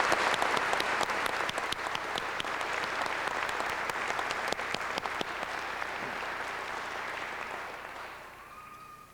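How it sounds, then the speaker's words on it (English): Graduation ceremony audience applauds the named graduates of the 2002 class, a close, full round of clapping with sharp individual claps standing out, lasting several seconds and fading at the end. "Please give them a round of applause."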